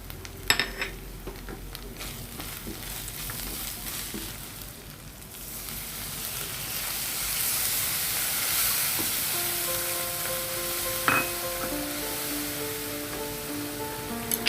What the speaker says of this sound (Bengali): মশলাগুলা একটু ভালোভাবে কষিয়ে নিচ্ছি।